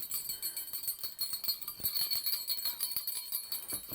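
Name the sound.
jingle bell inside a reusable fabric Christmas cracker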